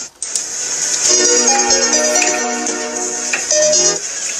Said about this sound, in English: you left your phone upstairs, but Uncle Tunde called you.